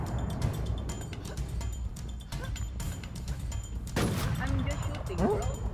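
Gunfire in the online shooter game NewZ, a rapid stream of sharp shots and bursts over dense game noise, with someone talking excitedly over it.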